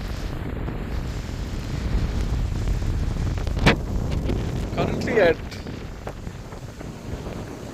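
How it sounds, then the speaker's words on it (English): Steady low rumble of wind buffeting the microphone beside a lake near an airport, with someone talking over it and a couple of brief bumps. "It's very, very windy."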